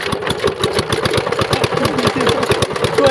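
A water pump machine engine runs with a steady, fast chugging pulse, loud and close, its rhythm faltering briefly as if being restarted, with faint voices in the background.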